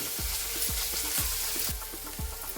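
Onions, tomatoes, ginger, green chilli and coconut frying in oil for a mutton chops masala, a steady broadband sizzle with regular low thuds of stirring, close and continuous, with no voices.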